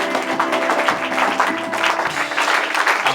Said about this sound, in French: Acclamons plus fort le Seigneur.